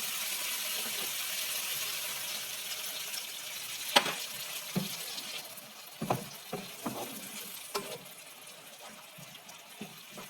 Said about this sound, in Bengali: আমি আরেকটু পানি দিয়ে আমি মশলাটাকে ভুনা ভুনা করে নেব।